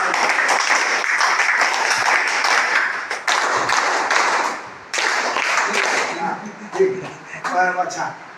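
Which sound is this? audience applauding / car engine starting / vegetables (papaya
audience applauding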